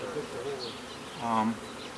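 Honeybees buzzing around an open hive during a colony split, a close, continuous insect drone with a brief louder pass, no speech.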